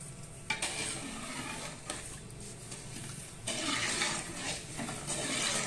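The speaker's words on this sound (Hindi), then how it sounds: "अब इसको हम मिक्स कर लेते हैं।" Green cardamom pods being stirred into simmering sugar syrup for zarda rice in a pot, a steady close bubbling and sizzling wash with scraping stir strokes and no talk.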